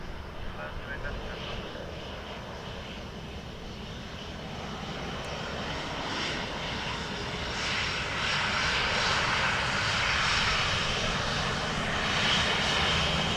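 An Airbus A330 at Dublin Airport gives off a steady, far-off jet engine roar that slowly swells louder, with radio voices talking over the drone.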